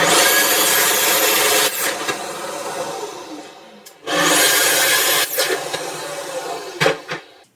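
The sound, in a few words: Festool HK55 carpentry circular saw cutting wood on guide rail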